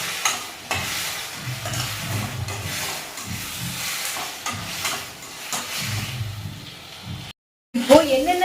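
Fish curry ingredients fry and get stirred over a high flame, a loud steady sizzle and hiss with scraping stir strokes, followed by a short break and a burst of fresh sizzling.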